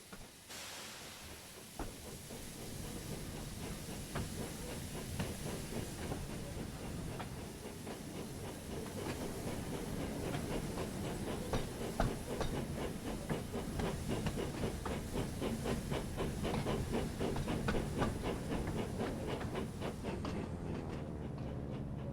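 A steam train reverses in the Thomas and Friends Wonders of Sodor video game, giving a steady hissing chuff with rhythmic clickety-clack wheel beats that hold at an even level throughout.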